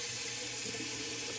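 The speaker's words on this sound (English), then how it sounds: "cold water rinse" Cold tap water runs steadily into a sink for a rinse during a wet shave, a continuous close hiss with no breaks.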